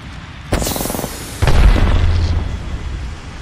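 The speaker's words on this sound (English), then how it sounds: "Throwing arc star." Arc star grenade in Apex Legends going off with a sharp electric crackle followed about a second later by a heavy booming blast that rumbles and fades.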